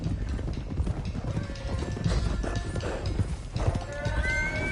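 Horses gallop in a video game, their hooves clip-clopping in a steady rapid rhythm while several whinnies and neighs ring out over the hoofbeats.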